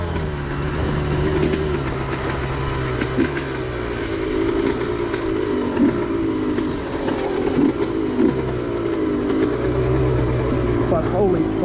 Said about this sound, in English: that exhaust, bro, it needs packing so much. It's so loud.